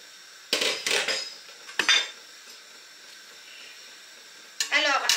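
A metal lid clatters onto a cooking pot on the stove, a few sharp clanks and rattles with a quiet simmer between, then a final clink.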